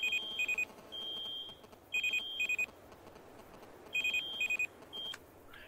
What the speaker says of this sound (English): you've noticed that my pager has been going off